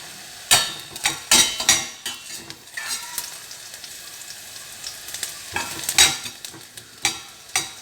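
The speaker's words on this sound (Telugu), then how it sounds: "దాన్ని బాగా కలిపేసుకుంటా ఫ్రై చేసేసుకోవాలి." Egg mixture frying in a pan over high heat, with steady sizzling broken by repeated scraping and clinking of a utensil stirring against the metal, close and fairly loud, no talking.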